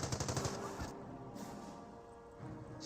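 A .30 cal machine gun fires in the Company of Heroes game: a rapid rattling burst of shots at the start, then scattered single reports and distant gunfire trailing off, with no talk.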